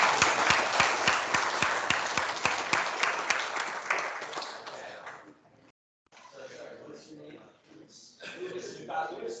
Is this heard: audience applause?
yes